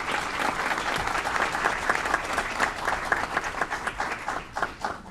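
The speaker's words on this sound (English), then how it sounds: "Give him a round of applause." Audience applause at an Aurora City Council meeting, honoring a city team member named Simon Rodriguez: dense, steady clapping from a roomful of people, sustained and fairly close for the whole stretch.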